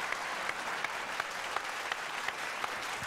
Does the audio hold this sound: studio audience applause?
yes